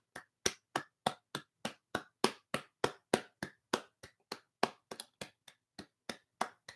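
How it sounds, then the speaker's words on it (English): People clap in the street in a steady, regular rhythm of sharp, close claps, roughly three per second and occasionally slightly uneven, with no talk. "So we now just out here clapping in the street."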